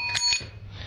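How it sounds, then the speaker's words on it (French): An antique English ding-dong bicycle bell from about 1885-90, with a lid, rings twice in quick succession, bright and close, a high strike then a lower one, with no talking. "C'est une sonnette de type ding-dong"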